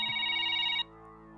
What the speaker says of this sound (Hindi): एक जरूरी फोन आ गया, मैं एक फोन सुन लूं।